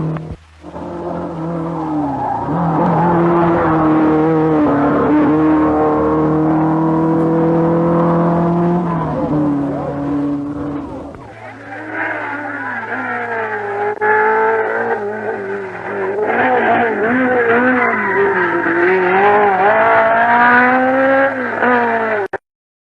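A Bandini race car engine revs loudly and continuously, rising and falling in pitch as it drives, with a shift in tone partway through. No one speaks.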